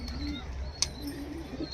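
Giribaj pigeons, a high-quality breed kept by a pigeon seller, coo in a low, steady murmur throughout, with a brief sharp chirp partway through.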